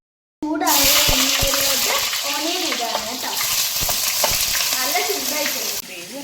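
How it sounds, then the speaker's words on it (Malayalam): Sliced onions fry in hot oil for a chicken biryani, giving a loud, continuous sizzle with scraping stir strokes throughout and a voice talking over it. "അപ്പം ചൂടായ എണ്ണയിലേക്ക് ഫസ്റ്റ് തന്നെ ഓണിയൻ കട്ട് ചെയ്തതിടുക."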